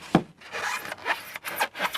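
Material being cut by hand to make fake movie-prop bricks gives close rasping, sawing strokes in an uneven rhythm, several scraping passes with short gaps between them and no talking.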